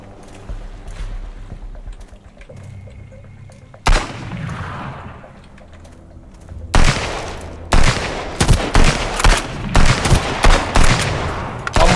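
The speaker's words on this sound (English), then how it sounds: "I'm shooting him as well" Gunfire in the survival video game Sunkenland, quiet ambience giving way to a sudden loud shot, then heavy repeated bursts of close, booming shots in quick clusters.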